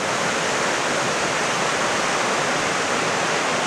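The East Fork Quinault River in Olympic National Park rushes past close by in a steady, loud, unbroken roar of flowing water, with no voices over it.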